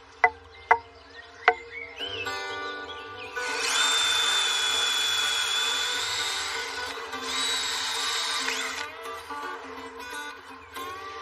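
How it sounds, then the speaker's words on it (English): A power drill bores holes through straight lengths of hazel wood, a steady high whine running for several seconds, pausing briefly, then resuming, preceded by a few sharp knocks on the wood; no one speaks. "Now that I've drilled my holes, they are all ready to suspend"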